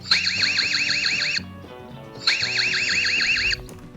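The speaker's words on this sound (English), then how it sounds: "then we can activate as well the alarm." EZVIZ CB3 security camera sounds its alarm siren: two loud bursts of a rapid warbling electronic whoop, each about a second and a half, separated by a short gap.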